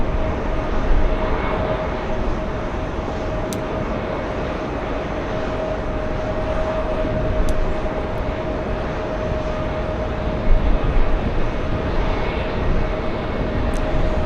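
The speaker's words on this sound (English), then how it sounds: "Oh, big one on final approach. It's Singapore, world's longest flight." A Singapore Airlines Airbus A350-900 ULR on final approach passes as a steady, loud, broad engine roar with a sustained whine, continuous for the whole stretch without talk.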